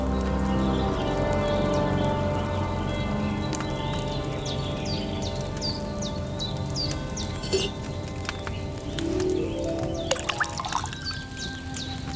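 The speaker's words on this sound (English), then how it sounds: "First, you have to pour the right base into the cauldron." Wine poured from a pitcher into a cauldron in the video game Kingdom Come Deliverance II, a loud steady splashing pour with bubbly gurgles and light pattering, clip-clop and bird sounds faintly behind, no speech.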